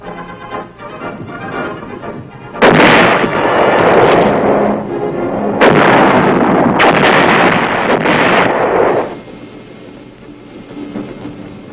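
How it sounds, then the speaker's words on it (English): 175 mm artillery guns fire shells during weapons testing at Aberdeen, heard as several loud, heavy booming blasts with long rumbling decays. They come in two clusters over a steady low background, with no voices. "the 175s reliably deliver shells with pinpoint accuracy on targets over 10 miles away"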